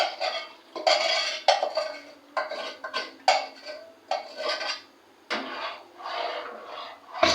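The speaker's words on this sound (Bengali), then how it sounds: "যে টক দইটা রয়েছে তার সঙ্গে এইটাকে ভালো করে মিশিয়ে দেবো" A spoon stirs cooled milk into sour curd in a bowl to set homemade yogurt, with close, busy scraping and clinking strokes in quick irregular bursts, separated by short pauses.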